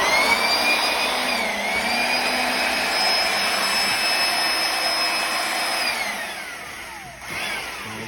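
A Ridgid 141 pipe threader runs with a steady loud motor whine and a high tonal drone, holding even before the pitch drops and dips near the end, with no talk.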